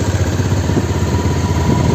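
Motorcycle engine idling in a dense forest, a steady close mid-pitched rumble with a faint high whine above it, continuous with no talk.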